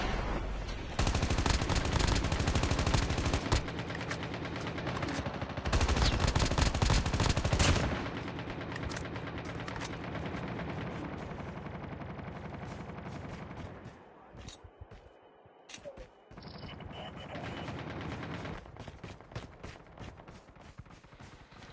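Gunfire in a Call of Duty Mobile battle royale squad match, with dense rapid bursts of automatic shots for several seconds, then quieter intermittent shooting and game sounds.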